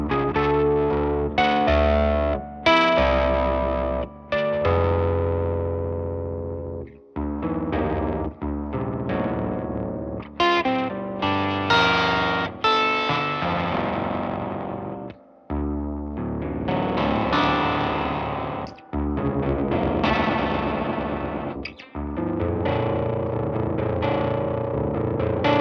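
Heavily distorted fuzz guitar with harsh, metallic, ring-modulator-like overtones, played in choppy phrases with brief gaps between them.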